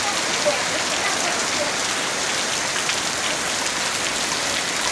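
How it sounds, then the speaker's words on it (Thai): Heavy rain pouring down during a storm, a dense, steady hiss of drops hitting surfaces that fills the whole stretch without letup. "ฝนตก"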